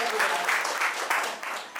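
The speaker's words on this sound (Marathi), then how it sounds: "आता स्वतःसाठीच टाळ्या वाजवा." An audience at a rural land-acquisition legal guidance camp claps together in a dense burst of applause, fairly close and filling the whole moment, fading slightly at the end.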